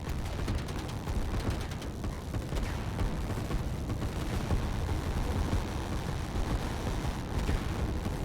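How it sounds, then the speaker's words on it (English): Heavy artillery fire from a Line War strategy game battle, a dense continuous rumble of booms and blasts rolling together at steady loudness with no clear gaps between impacts. "we have the artillery coming from this area"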